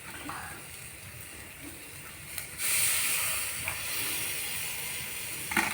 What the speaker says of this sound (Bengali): আমরা এখন চিকেনগুলো ফ্রাইয়ের জন্য তুলে দিচ্ছি।